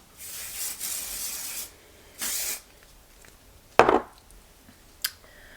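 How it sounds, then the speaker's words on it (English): Several hissing sprays of heat protectant onto hair, one long and two short, followed by a sharp knock and a faint click in an otherwise quiet room. "First, I'm gonna go ahead and spray some heat protectant on."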